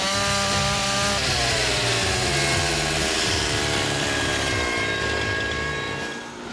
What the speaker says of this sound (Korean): 전기톱을 어떻게 이렇게 정밀하게 자르세요?